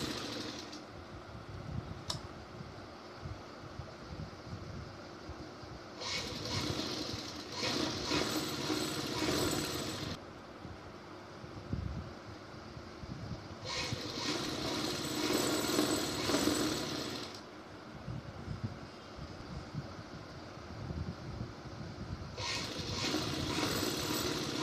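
A sewing machine stitches the leg seam of a salwar in several bursts of steady mechanical whirring, each lasting a few seconds, separated by quieter pauses with faint handling noise, close and fairly loud.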